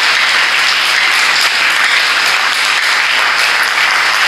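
A church congregation at a Sunday service bursting into loud, sustained applause, a dense wash of many hands clapping with no pauses.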